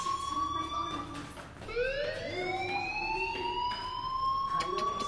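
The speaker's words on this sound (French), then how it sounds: "do you hear that fire alarm? That means you should be outside." A fire alarm in a school in the video game Life is Strange blares with a steady, rising electronic tone, loud and continuous, over a dull background rumble.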